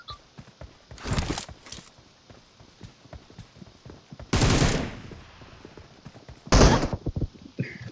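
Three loud bursts of gunfire from an M762 rifle in the mobile shooter PUBG Mobile, each a dense crack-and-rattle lasting under a second, spaced a few seconds apart over quieter clicking and shuffling between shots.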